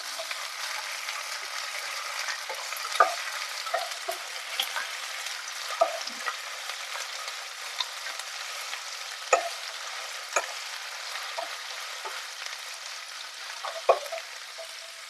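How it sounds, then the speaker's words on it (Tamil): Green chilies and ginger garlic paste fry in a pan for Madurai rottukadai chicken salna, giving a steady soft sizzle broken by regular light clinks of a stirring spoon. "இது கூடவே இஞ்சி பூண்டு விழுதையும் சேர்த்து பச்சை வாசனை போற வரைக்கும் நல்லா வதக்கி விடுங்க."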